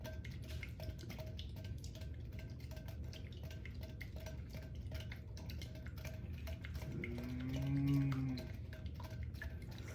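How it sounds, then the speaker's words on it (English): Apple cinnamon pancake batter being whisked in a bowl, a faint, steady run of light clicks and taps against the sides, with a brief higher squeak partway through. "You want to whisk that up?"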